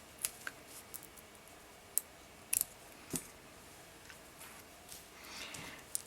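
Small scissors snip 3mm beading cord for a pendant bezel around a 16mm Rivoli crystal, making a few faint, sharp, isolated clicks against quiet background hiss, with no talking.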